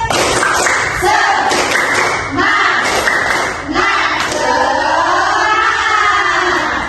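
A fifth-grade class performs a rhythmic group clap in a classroom, loud and close, with bursts of patterned clapping mixed with children's shouting voices.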